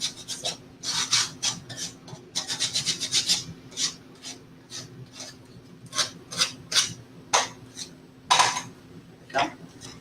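Edges of a wooden door hanger being scuffed by hand, dry rasping strokes coming in quick uneven bursts close by, some fast and clustered, others spaced apart, with no talk.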